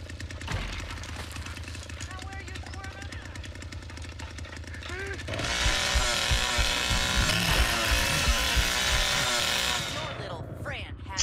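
A chainsaw in the Texas Chain Saw Massacre video game, wielded by Bubba, roars loud and steady for several seconds after a stretch of busier game noise, with voices talking throughout.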